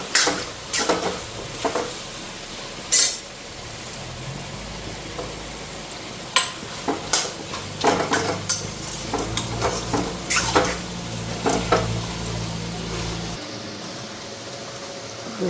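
Food frying in a wok on a home stove, a steady sizzle with repeated clinks and scrapes of a spatula against the pan, plus a low fan hum throughout.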